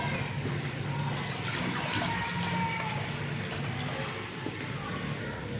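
Water, 1.5 liters from a bottle, poured into a cooking pot for mixed daal, a steady continuous gush lasting several seconds at close range.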